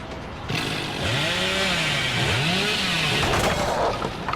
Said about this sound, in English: So you can use your chainsaw just to take out pallets.